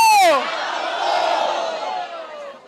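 A crowd of protesting teachers jeers and boos a state deputy at a legislative assembly, a loud surge of massed voices that swells and then fades over a few seconds, with a sharp tone at the start.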